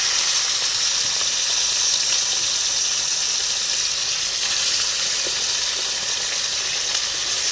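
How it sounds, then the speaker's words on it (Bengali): Meat braising in a pan gives a steady, close, loud sizzle, unbroken from start to finish with faint stirring, alone without any talk. "দেখি কতটা ছ্যাক মারে। ও বাবা রে, হালকা করে ছ্যাক মেরেছে, বেশি না।"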